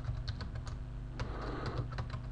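Quiet, rapid clicking of a computer keyboard being typed on at a desk, a run of close, light keystrokes with a short flurry in the middle.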